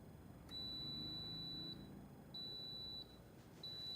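A kitchen timer or heat-press timer on a golf driver build bench beeps to signal the end of a 2 minute 45 second heating cycle, giving three steady, fairly loud electronic tones with short gaps between them.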